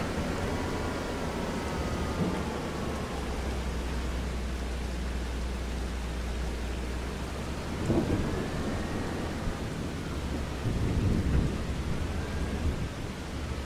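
Steady Farming Simulator 25 rain hisses throughout while low thunder rumbles roll in twice, the second swelling a little louder.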